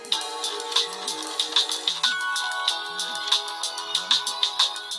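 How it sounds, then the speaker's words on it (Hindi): A phone ringtone plays in a Hindi TV drama scene, a repeating bright electronic melody of short chirping notes, steady and clear with no talk over it. "वेद का फोन"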